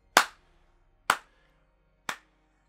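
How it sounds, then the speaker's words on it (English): Three sharp, isolated hand claps spaced about a second apart, close and crisp, each fading quickly into silence, with the last one a little softer. "I just start clapping."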